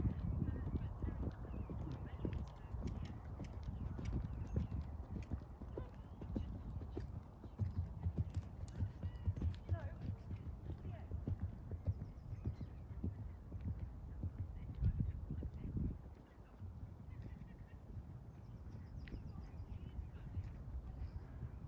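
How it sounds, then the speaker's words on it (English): Horse hooves clip-clop steadily on a hard surface throughout, with faint voices and outdoor ambience of Bushy Park, London, in the background. "let's film some horse action"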